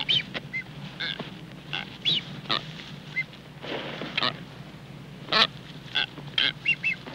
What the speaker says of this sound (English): Dr. Howell places a mirror near the nest of a pair of blue-footed boobies with newborn